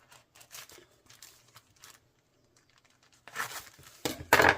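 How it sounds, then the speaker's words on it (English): A knife punches holes every so often through all the layers of a rolled bag, producing crinkly tearing crunches. Short scattered bursts come first, then louder, closer punctures near the end. "take a knife between my fingers and we'll just punch a hole every so often all the way through all the layers in the bag"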